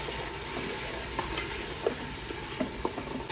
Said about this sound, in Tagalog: gisahin muna natin to guys para lumabas yung langsa